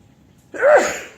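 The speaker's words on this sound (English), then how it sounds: "Sorry about the sneeze." A single close, sharp human sneeze bursts out after a short quiet moment and trails off.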